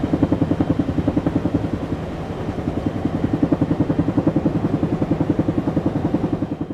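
A BDF helicopter flying about 1,000 meters overhead, a loud steady rotor thudding in fast even pulses that holds for several seconds with no talk.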